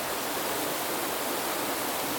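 A waterfall on a river in Tokyo runs from one bridge to the next, giving a constant, dense, hissing rush of falling water, steady and close, with no voices.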